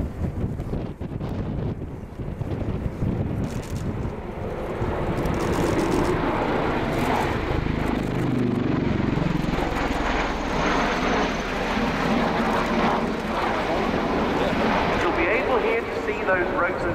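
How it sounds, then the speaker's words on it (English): A USAF CV-22 Osprey tiltrotor flying past at an air show, its rotors transitioning into helicopter mode, a roaring rotor and engine wash swelling to a loud sustained pass with wind buffeting the microphone while a commentator talks. "those rotors transitioning as the aircraft goes from conventional into helicopter mode"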